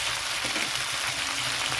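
Salt dropped into hot oil for a Bengali fish curry with elephant foot yam sizzles in a steady, soft crackling hiss, close and continuous with no voices.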